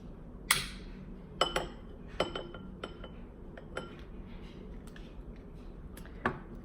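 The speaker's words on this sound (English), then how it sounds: "Next, we're going to put in the candle." A candle set down into a glass jar during a chemistry demonstration, giving a few sharp glassy clinks and taps spread across a quiet room, each one brief and close.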